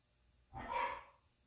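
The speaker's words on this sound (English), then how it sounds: "Sorry for my dogs barking in the background." Dogs bark in the background of a woodworking workshop, a single short muffled burst about half a second long, moderately distant and heard alone with no talk over it.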